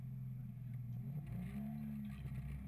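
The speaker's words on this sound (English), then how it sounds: "bringing up the revs, hand on the brake," A drag racing car engine hums steadily at idle on the start line, then the revs climb into a rising drone before launch, loud and close with no talking.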